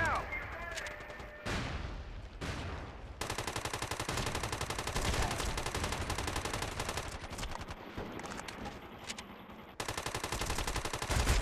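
Sustained machine-gun fire and shooting from a PS3 MAG match defending Darien in a Network Sabotage mission fills the scene in loud, dense bursts. There are short gaps between volleys, and the fire runs almost continuously throughout.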